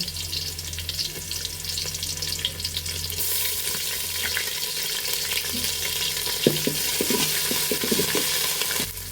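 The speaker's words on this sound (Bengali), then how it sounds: "এখন আমরা পেস্টটুকু দিয়ে দিব এবং চারটে ভাত চিনি এলাচ এবং এখানে আধা চা চামচ পরিমাণের মতো আদা বাটা এবং রসুন বাটা দিয়ে দিব" Spice paste with ginger and garlic paste frying in a pot for chicken biryani, a steady broadband sizzle running throughout with occasional stirring clinks near the end, no talking.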